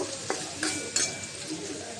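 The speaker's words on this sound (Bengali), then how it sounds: "পেঁয়াজটা একটু হালকা ভেজে নেব" Chopped onion sizzling lightly in oil in a kadai, with a soft steady fry and a few sharp scrapes and clinks of a utensil stirring against the pan, close and with no talking.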